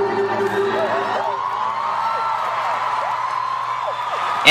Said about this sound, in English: And the crowd went crazy.